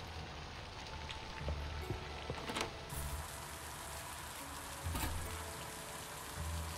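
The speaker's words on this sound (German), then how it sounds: "Ah, heute regnet es wieder." Rain in the video game Littlewood falls as a soft, steady patter with scattered droplet ticks, faint and continuous.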